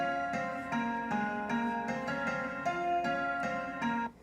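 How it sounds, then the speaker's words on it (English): Kontakt software piano notes struck in a steady repeating pattern, each chord ringing briefly before the next, soft and clean with no talking, cutting off at the end. "I believe that piano sound was a Kontakt piano sound"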